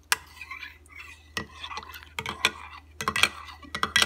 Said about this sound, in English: So I just take my little spoon and stir it up.